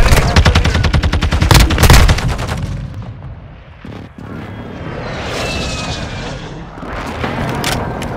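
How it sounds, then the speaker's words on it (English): A hostile airstrike in Call of Duty: Modern Warfare: loud rapid gunfire bursts give way to rumbling explosions and a rising whine of aircraft overhead, heavy and close throughout. "Hostile airstrike incoming."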